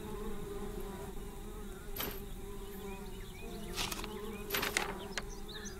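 Bees buzz in the video game Spirit Legends 5, a steady insect drone with a few sharper clicks and whooshes over it, moderately loud and continuous, with no talk.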